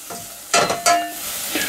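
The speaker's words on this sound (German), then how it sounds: "Das Ganze rühre ich jetzt gut durch. Lass es einen ganz kleinen Moment so ein bisschen vor sich hin brutzeln" Lemon zest is stirred through hot oil in a pan: two short, close scraping stir strokes stand out over a soft, continuous sizzle.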